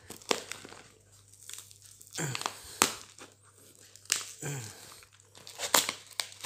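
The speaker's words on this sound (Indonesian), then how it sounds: "dia tinggal kita sobek ujungnya" Plastic packaging of fishing lures for snakehead being torn open at one end, with several sharp crinkling rips and crackles spread over a few seconds, close and moderately loud, with speech in between.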